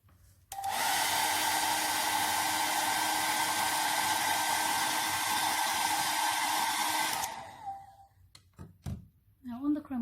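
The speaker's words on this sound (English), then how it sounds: "I'm now going to dry it with my hairdryer." A handheld hair dryer blows steadily and loudly for about seven seconds while drying chromatography paper spotted with food colouring, then switches off, leaving a few quiet knocks and handling sounds.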